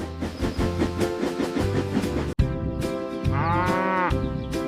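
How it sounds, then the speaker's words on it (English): A cow moos loudly and long, a deep drawn-out call, over steady background music. "I hear a moo."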